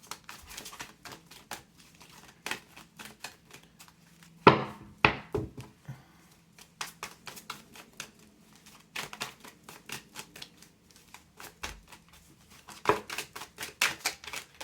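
Tarot cards being handled and shuffled during a reading, a run of dry papery flicks, taps and riffles with a couple of sharper thumps, close and fairly quiet.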